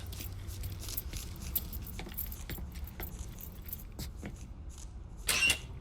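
Truck keys jangle as they are picked up in the video game Mafia III, with light metallic clinks over a low engine-like hum and a louder rattling burst near the end.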